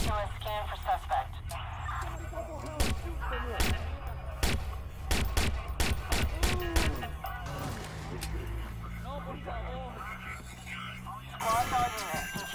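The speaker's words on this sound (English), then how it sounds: "Some guy's shooting." Gunshots ring out in the Watch Dogs game as a series of sharp, loud cracks, some in quick bursts, scattered through the stretch under frequent talking and radio chatter.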